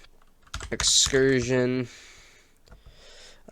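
Fingers tap a computer keyboard in a few quick clicks, with a voice talking over and between the keystrokes.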